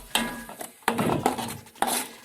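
A spoon stirs curd into egg biryani masala in a pot, making a few quiet scraping strokes against the metal with soft clinks.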